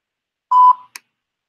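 A single voicemail recording beep: one steady electronic tone held for about a quarter second, then a short second blip, alone and clear.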